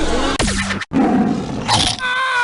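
A short roar of a tiger plays as a sound clip in the You Don't Know Jack trivia video game, loud and close, with a growling burst followed by game sound effects and a brief voice.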